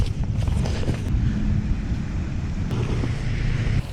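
Steady outdoor wind buffets the microphone beside open water on a bass fishing outing, a continuous loud low rumble with gusty swells and no voices.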